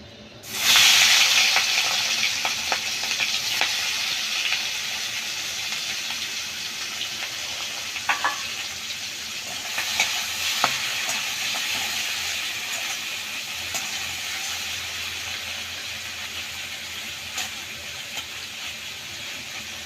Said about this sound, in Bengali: এবার আমি চিংড়ি মাছ কটা ভেজে নেব।